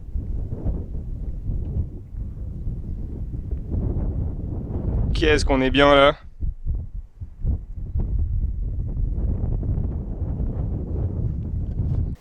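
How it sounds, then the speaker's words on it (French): Wind buffets the microphone outdoors in a continuous low rumble throughout, with a short spoken remark breaking in near the middle. "Désolé pour le vent du coup."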